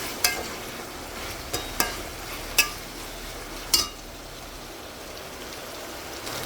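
Vegetables frying in a pot for an old-style biryani, a soft steady sizzle broken by a handful of sharp stirring knocks and clinks, close and fairly quiet with no talking.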